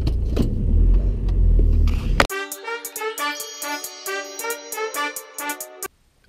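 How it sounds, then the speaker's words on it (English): A car pulls up into a driveway with a low, rumbling engine for about two seconds. The engine sound then cuts off abruptly and gives way to a rapid, repeating electronic chime. "I just pulled up in the driveway"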